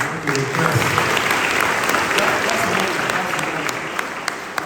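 Steady applause from a crowd, many hands clapping continuously throughout, with a few sharper claps standing out near the end.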